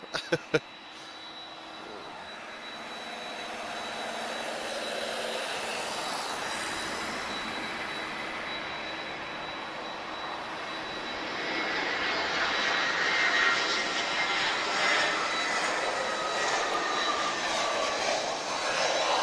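A plane lines up and takes off at Lisbon Airport. A steady jet engine roar in the distance swells and grows louder in the second half as the aircraft powers down the runway.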